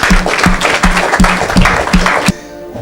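A church congregation claps in steady unison rhythm at a deliverance service, the beats regular and loud with a low thump on each clap, then the clapping stops abruptly near the end, leaving only a faint room hum.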